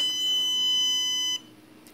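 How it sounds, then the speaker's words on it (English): Shock collar, triggered by vibration at its prongs, gives off a loud, steady high-pitched electronic warning beep that holds for over a second and then cuts off sharply, with no talking. "The prongs, when they feel vibration, they'll send out a warning beep like this."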